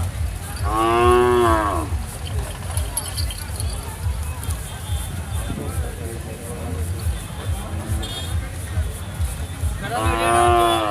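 Cattle moo loudly twice, several seconds apart, over a busy background of crowd chatter and general outdoor noise at the Bookanabetta cattle fair.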